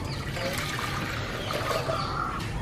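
Tamarind water poured into a pot while making kudampuli lehyam, a steady close trickling and splashing stream that runs without a break.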